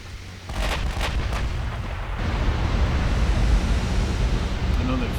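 Battleship turrets fire in the naval video game Ultimate Admiral Dreadnoughts during a 1940 British battleship duel off Norway, heard as a few quick muffled booms at the start and then a heavy, steady roar of sea and battle noise.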